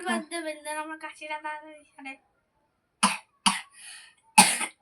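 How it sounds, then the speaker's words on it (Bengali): A person coughs several times: a run of voiced, harsh coughing bursts at first, then three short sharp separate coughs after a pause, close and loud. "প্রচণ্ড কাশছে"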